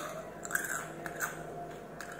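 Crisp, close bites and crunching of Tochi Hot Stuff, a crispy sweet-sour-spicy-salty snack, repeated in a loose rhythm over about two seconds with no talking.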